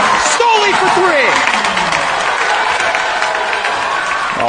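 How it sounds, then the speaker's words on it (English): A home crowd at a high school basketball game in a gym cheers and claps, a loud, continuous roar with sneaker squeaks near the start and a commentator's voice running over it. "Alter night crowd starting to get into it a little bit here"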